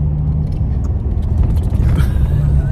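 A car cruising along a road through bushland on the way to Bendalong, a loud, steady low engine and road rumble filling the cabin with faint rattles over the top, no talk.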